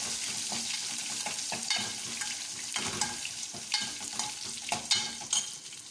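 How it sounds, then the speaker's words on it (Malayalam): Dried red chilies and curry leaves sautéing in hot oil for rasam, a dense crackling sizzle throughout with repeated stirring scrapes in an uneven rhythm. "കറിവേപ്പില രണ്ട് മൂന്ന് തണ്ട് അതും ഇട്ടിട്ട് വഴറ്റുന്നുണ്ട്"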